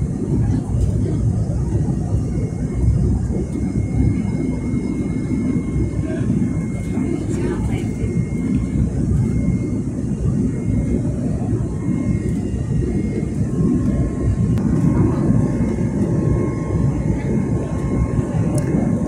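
A passenger airplane descends below the clouds and banks into a turn on approach to Sofia, its steady, loud cabin roar and engine rumble droning without pause throughout.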